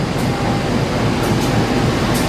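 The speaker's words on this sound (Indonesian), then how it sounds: "Lihat, teman-teman, ada kereta" A CC201 diesel locomotive at Jatinegara station gives off a steady, loud rumble with broad noise that holds throughout, no voices heard.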